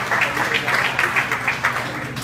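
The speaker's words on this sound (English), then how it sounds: "We're going to clap up for him." Audience applause for a comedian at a live stand-up show in a comedy club: a steady, dense wash of clapping with a few louder bursts, held at an even level for a couple of seconds.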